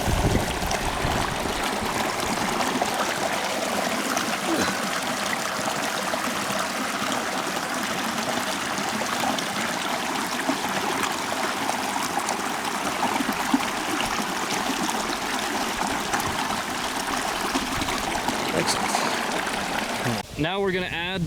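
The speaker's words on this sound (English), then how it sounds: "Today we're just going to be squirting it right into our tea bag." Water is squirted from a filter bag into a tea bag for mint and pine needle tea, a continuous close trickling hiss running steadily for about twenty seconds before a brief clatter at the end.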